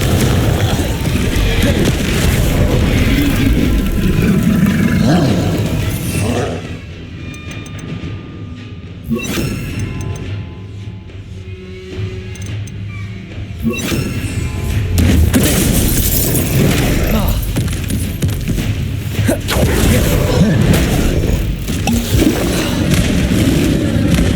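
Confringo fire-spell explosions in the Hogwarts Legacy video game: loud, dense booms and crackling blasts run through most of the stretch, easing briefly in the middle before surging back with continuous battle noise.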